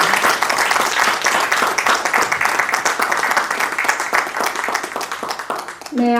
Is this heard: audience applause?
yes